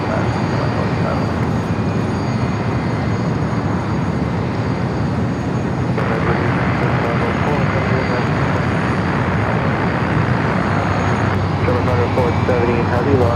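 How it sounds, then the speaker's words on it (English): Singapore Airlines Airbus A350 idling at Los Angeles International Airport as it prepares to taxi, a steady, loud broadband jet engine roar that holds constant throughout with faint radio chatter underneath. "Stay in the Singapore A350 as it gets ready for his taxi up more than likely to the north side."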